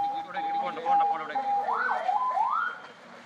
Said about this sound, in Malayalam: ഇപ്പോൾ ബിനോയുടെ വീട്ടിലേക്ക് ആംബുലൻസ് എത്തിക്കുന്നതിന്റെ ദൃശ്യങ്ങളാണ് എന്ന് മനസ്സിലാക്കുന്നു